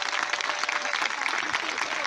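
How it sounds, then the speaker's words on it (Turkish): After a theatrical dance performance, the audience breaks into applause, a dense crackle of many hands clapping at close range with some voices mixed in. "Kendilerine çok yüksek bir alkış istiyorum."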